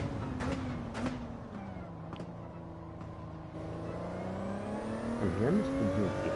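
A Ferrari's engine hums steadily up close, its pitch holding, dipping and rising, with a brief rev near the end.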